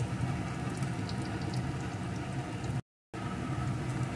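Food frying in a pan over a low gas flame, a steady soft sizzle and bubbling hiss that continues without talk and cuts out briefly near the end.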